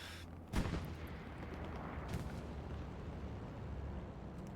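Gunfire and artillery boom in a large multiplayer war video game battle, with one sharp close blast followed by another softer burst over a constant rumbling background of distant fighting.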